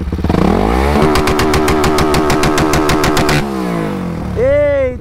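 A Fanzinha 160 motorcycle with a 4mm setup runs hard through town, its engine revving loud and steady in a rapid, buzzing pulse before easing off, with a brief voice near the end.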